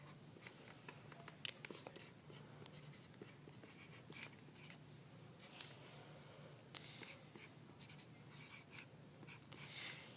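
Pen or pencil writing out math by hand on paper, a close, faint continuous scratching with short taps and pauses between symbols.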